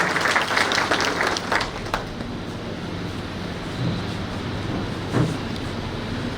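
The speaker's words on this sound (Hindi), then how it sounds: "हम सभी की ओर से तालियों से ताई का अभिनंदन।" An audience at a Jaipur seminar claps in honour of Tai, the dense applause strongest at the start and then thinning to a steady, fainter patter.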